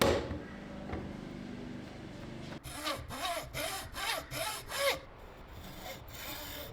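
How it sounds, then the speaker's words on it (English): A fine-toothed hacksaw cuts gear teeth into a template in a garage: after a quiet start, about six quick rasping back-and-forth strokes sound close by, then fade into a softer scrape, with no talking. "I actually ended up using the hacksaw for most of this, because its fine teeth make the delicate work a lot easier"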